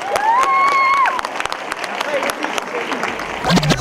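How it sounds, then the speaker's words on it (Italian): An audience at a cinema screening claps and cheers in a dense, lively burst with sharp individual claps and some whistles, and voices rise over it toward the end. "Facciamo un applauso a questo orgoglio napoletano"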